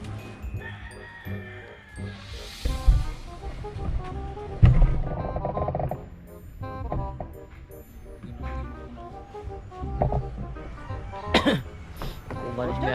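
Repeated coughing and throat clearing from a person recovering from a stitched wound, amid background talk and ambient noise, with a few harsh coughs standing out.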